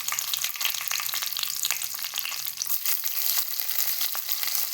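Chopped onion fries in hot oil with mustard seeds, cumin and curry leaves, giving a loud, dense, continuous sizzle and crackle up close with no talking.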